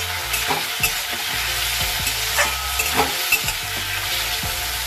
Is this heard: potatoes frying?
yes